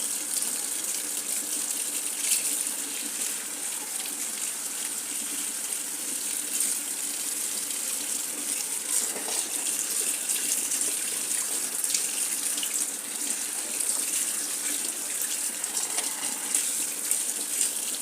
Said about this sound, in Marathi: आता आपण स्वच्छ पाण्याने जरा हे गहू हलकेसे धुवून काढूया